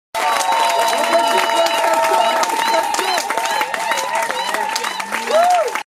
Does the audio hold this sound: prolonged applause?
yes